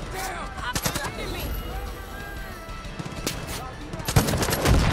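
Heavy gunfire in the Far Cry 5 PC shooter, with rapid automatic bursts and sharp shots layered over constant game noise and a loud blast near the end, as players talk throughout.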